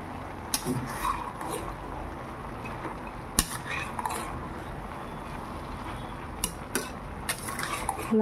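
A spoon scrapes and knocks against a pot as chana dal curry with bottle gourd is stirred, a few sharp clinks rising over a constant simmering, hissing background, with no speech.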